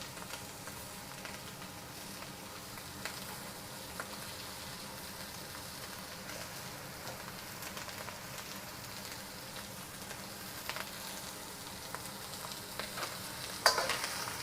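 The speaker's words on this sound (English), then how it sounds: "second batch of beef, we're again trying to brown the outside here" Beef browns in a hot stir-fry pan, producing a steady, rain-like crackling sizzle at moderate level throughout, with a slight clatter near the end and no talking.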